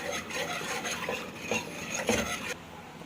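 A spoon stirring flour and milk in a pot for béchamel sauce: steady scraping and swishing strokes against the pot, soft and close, ending abruptly.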